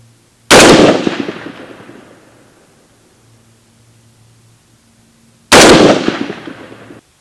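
Two loud rifle shots fired during a scope drop test of a budget SIG Sauer Buckmasters scope, each a sharp blast with a long decaying echo, spaced about five seconds apart outdoors.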